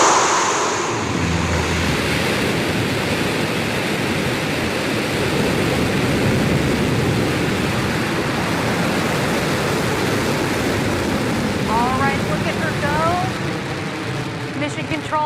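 New Shepard rocket engine roaring at launch on mission NS-13, a loud, steady broadband rumble that holds unbroken for the whole stretch.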